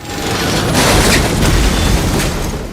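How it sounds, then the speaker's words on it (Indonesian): A loud, rumbling blast with a broad roar that swells and lingers for a few seconds, a helicopter exploding close by in a film. "Kemudian dia memberondong helikopter musuh hingga meledak."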